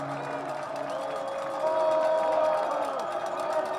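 Stadium crowd noise at a Wheaton vs Augustana college football game, a steady roar of cheering fans that swells louder midway, with some voices mixed in.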